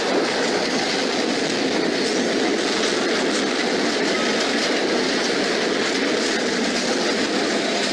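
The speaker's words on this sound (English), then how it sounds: "This dramatic moment captures a Union Pacific freight train derailing at Santa Fe Junction in Kansas City" A loud, dense rumble of a Union Pacific freight train derailing at Santa Fe Junction in Kansas City, Missouri, with continuous roaring rail noise and clattering wheels, close and unbroken throughout.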